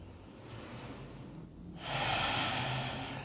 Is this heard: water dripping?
no